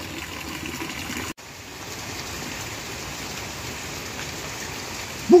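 Heavy rain pours down steadily and evenly on surfaces, broken by one brief dropout and ending in a small bump.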